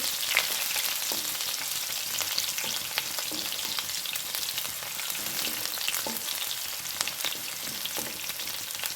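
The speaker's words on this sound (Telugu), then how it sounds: "ఇప్పుడు ఆనియన్స్ వేసుకుందాం వీటిని కొంచెం ఫ్రై పాన్ ఇవ్వాలి" Crushed garlic and onions fry in a pan with a bright, steady crackling sizzle and scattered sharp pops and stirring scrapes, close by and with no talking.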